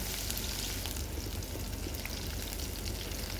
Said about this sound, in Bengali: একটি প্যানে পর্যাপ্ত পরিমাণ তেল নিয়ে তাতে দিয়ে দিতে হবে হাফ কাপের মতো পেঁয়াজ কুচি পেঁয়াজ কুচিগুলোকে সামান্য বাদামি করে ভেজে নিতে হবে